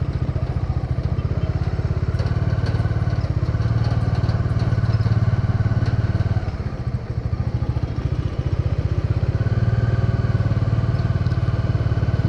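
Bajaj Dominar 400 motorcycle engine running on a hot-weather ride near a baywalk, a steady close rhythmic thump that swells and eases slightly with throttle, continuing throughout.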